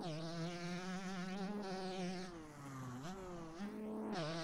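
Worn 125 motocross bike engine in a racing game, droning in a steady high-pitched buzz, then dipping and climbing again through quick revs, close and loud with no talking.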